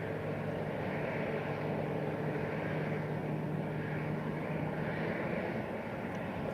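Airbus A320 airliners taxi at Lisbon Airport as a steady, low jet engine rumble that carries at a distance without letting up. There is no speech.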